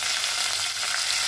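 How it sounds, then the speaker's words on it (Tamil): Mustard seeds, cumin and curry leaves tempering in hot oil for a South Indian lunch, a steady close hiss of frying that crackles evenly throughout without pause. "இதில் நம்ம தாளிச்சு கொட்டிடலாம். கடுகு, சீரகம், கருவேப்பிலை,"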